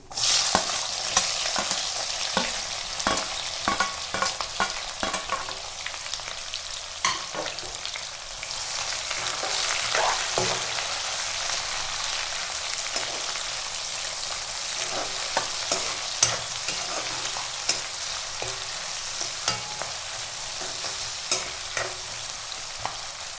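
Onions frying in a pan with other ingredients for vangibath, a steady close sizzle broken by frequent scraping stir clicks from a spoon, continuous and moderately loud with no talking.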